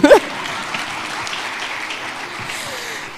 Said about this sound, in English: Yes, please clap.